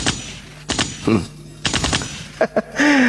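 A gunfire sound effect plays as several quick, sharp bursts of rapid shots with short gaps between them, ending on a sustained tonal sweep.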